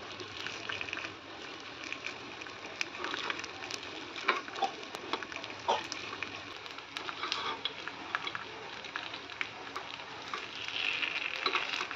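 Vegetable rava appe, semolina dumplings, fry in a covered appe pan with a steady, broadband sizzle and crackle throughout, punctuated by small pops and spatters at close range.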